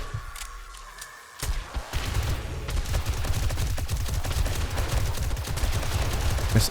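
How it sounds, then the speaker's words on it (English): Rapid gunfire from the video game 7 Days to Die, Rebirth mod, during a snowy late-game horde night: dense, overlapping bursts of shots that start after a brief lull and continue steadily and loudly, with no talking. "I have noticed we are able to more or less shoot through the enemies to hit their friends"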